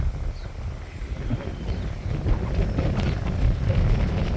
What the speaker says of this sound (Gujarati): પવનમાં કઈ સંભળા હતા નહીં